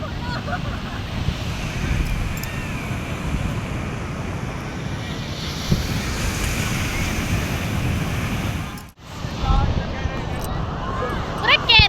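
Sea waves at a large open beach make a steady, broad roar of surf mixed with wind buffeting the microphone, with one brief dropout late on.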